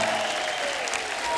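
Studio audience on a comedy show applauding to welcome a singer, a dense, steady wash of clapping from a large crowd, loud and continuous for the whole moment, with a faint tonal music line underneath.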